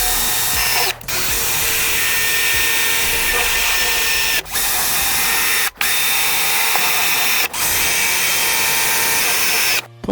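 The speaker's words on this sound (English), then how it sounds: "We're going to start drilling holes." A power drill with a 5/8 inch bit bores holes during a 2024 Tacoma bed-bar install, a loud continuous high whine broken by several brief stops as the trigger is released and pressed again.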